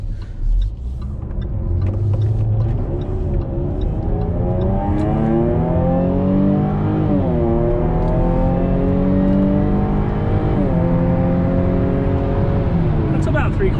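Loud car engine revving hard at about three-quarter throttle, harmonics sweeping up and down through several long pulls with strong continuous roar up close.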